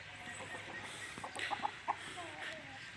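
An Aseel rooster clucks and calls a few times amid a noisy farmyard background, with some faint voices nearby.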